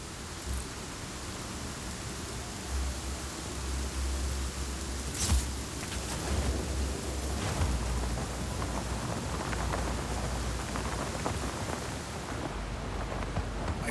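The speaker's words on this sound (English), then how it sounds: "Storm's rolling in." A thunderstorm rolls in during Just Cause 4, with steady heavy rain hiss and a few sharp thunder cracks and rumbles breaking through, dense and continuous, with no voices.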